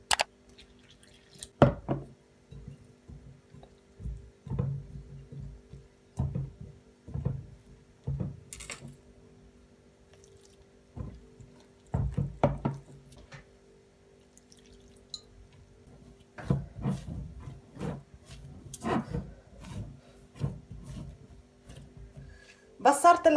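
Hands knead dough made with yeast, salt, sugar, milk and water, producing close, wet squishing and sticky slaps in irregular bursts with short pauses between them.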